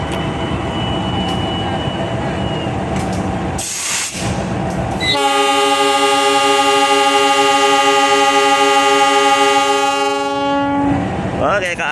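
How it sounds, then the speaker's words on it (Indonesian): The KA Cikuray passenger train departs Nagreg station with rail rumble and clatter, then a loud, sustained multi-tone horn blast that lasts about six seconds before cutting off as the train noise continues. "KA Cikuray diberangkatkan dari stasiun Nagreg."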